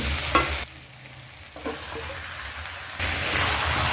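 Marinated desi chicken goes into a pan of spice-paste masala and fries with a close, crackling sizzle that drops and swells in intensity. Stirring and spoon clinks are heard with no talking.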